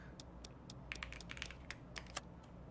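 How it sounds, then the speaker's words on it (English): Quick, irregular clicks of a computer keyboard as someone types words during an online word game, fairly close and quiet, with no talking. "We're typing words that have the substring in there"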